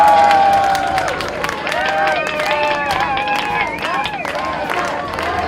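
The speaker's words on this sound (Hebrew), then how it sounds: "ובמקום הראשון שנאב מגולני, מחיאות כפיים." Applause and cheering at a Special Olympics sailing competition award ceremony, a crowd clapping steadily and loudly with voices and whistles mixed in.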